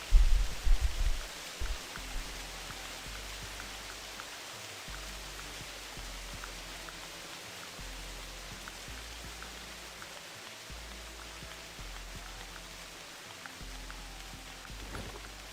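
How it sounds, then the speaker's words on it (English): Steady rain hiss in a snowy forest in the hunting game theHunter Classic, a continuous even wash of drops with a few louder thumps at the start, no voices. "I'm not a big fan of rain for the sound anyway."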